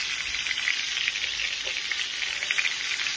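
Pieces of rohu fish fry in a pan with a dense, steady sizzle and crackle that stays close and continuous throughout, with no voices.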